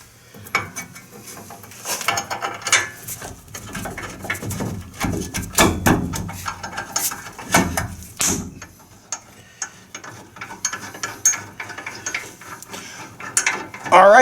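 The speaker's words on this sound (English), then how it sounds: "I'm going to grab my ratchet. We'll tighten these down." Hand ratchet driving in 18mm brake caliper bolts on the rear of a GMC Sierra or Chevy Silverado pickup: fast, repeated pawl clicking in bursts, mixed with metallic clinks and tool handling, fairly close, no talking.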